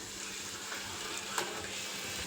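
Onion, tomato, ginger and garlic sauté in a pan for coconut rice, giving a steady, soft sizzle with an occasional faint clink of a utensil.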